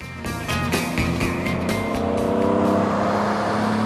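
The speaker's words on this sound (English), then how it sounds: "Hearing the Weber carburetor moan as it sucks in air when you open it up" A vintage MGC GT Sebring engine fed by a Weber carburetor roars loud and close, rising steadily as it revs and pulls, with a deep moaning intake note throughout and no voices.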